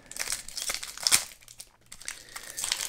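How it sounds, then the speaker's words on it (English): Foil trading card pack wrapper crinkling and shredding as it is torn open by hand, a close, continuous crackle with one sharper rip near the middle. "the only thing I don't like is when the packs shred like this."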